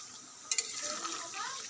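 Raw potatoes frying in a pan for duck curry, a soft steady sizzle with a couple of brief scraping clinks from stirring near the start.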